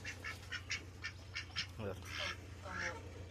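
Ducks quack in quick repeated bursts, fairly close, over a steady low hum, with a voice briefly talking partway through.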